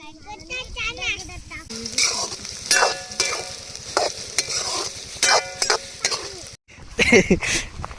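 Onion and chicken fry in hot oil in a pot over an outdoor wood-fired stove, a steady sizzle with repeated scraping stirs, heard close while people talk.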